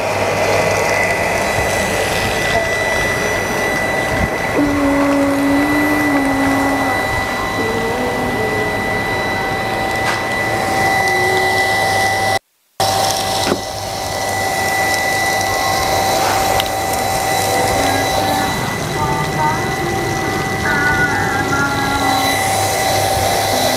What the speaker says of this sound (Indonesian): Kita akan nyalakan pompanya.